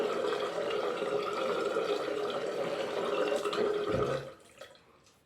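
A steady rush of water from a tap pours continuously for a few seconds, then cuts off abruptly, leaving faint drips and quiet.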